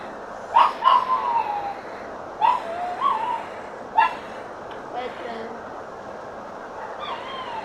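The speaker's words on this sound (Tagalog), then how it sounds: "meron ditong aso guys, dalawa" A handful of short barks from two dogs, faint and somewhat distant, come in irregular bursts over a low, constant background hum.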